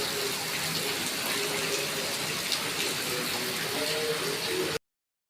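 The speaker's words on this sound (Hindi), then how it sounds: "यहाँ पे हो रही है बारिश और दिखा देती हूँ कितनी तेज़ बारिश हो रही है।" Heavy rain pours steadily outdoors at a home, a dense continuous hiss of drops on surfaces that stays loud and even throughout, with no talking, before cutting off abruptly near the end.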